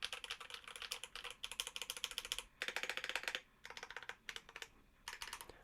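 Typing on a Drop ALT high-profile 65% mechanical keyboard with lubed and filmed Holy Panda switches, a close, crisp run of rapid clacks in bursts separated by short pauses, with no talk.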